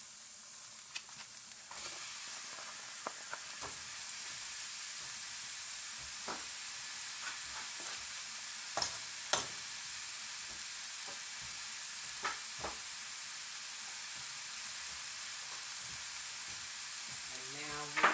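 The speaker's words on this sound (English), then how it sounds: "Into these onions, I'm going to add, this is ground beef and ground sausage." Ground beef and ground sausage sizzle with onions in a pan, a steady soft frying hiss punctuated by scattered light scrapes and clicks of stirring.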